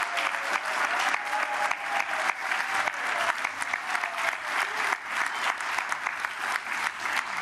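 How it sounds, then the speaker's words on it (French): An audience applauds continuously, a dense patter of many hands clapping that stays steady throughout, with a few faint voices mixed in. "Ils vont t'applaudir."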